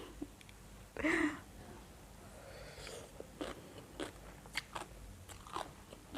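Someone eats spicy papaya salad with fermented fish, grilled pork, sticky rice and raw vegetables such as cabbage and bitter melon: one loud crunchy bite close up, then quieter chewing clicks and smacks.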